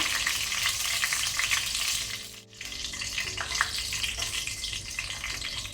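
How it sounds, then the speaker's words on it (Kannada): Curry leaves tempering in oil on a low flame for country chicken urval, a steady close sizzle and crackle with stirring, briefly dipping before resuming. "ಒಗ್ಗರಣೆ ಸೊಪ್ಪು ಒಳ್ಳೆ ರೀತಿ ಫ್ರೈ ಆಗಲಿ, ಸ್ವಲ್ಪ ಕ್ರಿಸ್ಪಿ ಆಗಬೇಕು"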